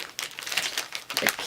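Washi tape from a scrapbooking kit crinkles and rustles as it is handled, with a few short, close crackles and one slightly sharper crinkle near the end.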